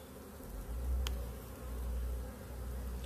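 Honeybees hum around an Apidea mini nucleus hive, a low steady buzz that swells and fades as they fly close by, with no talking.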